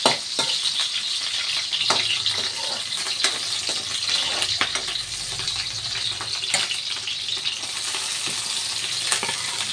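Chicken adobo ingredients frying in hot oil in a pan, with dense, continuous sizzling and sharp popping spatters of oil up close, loud and steady throughout.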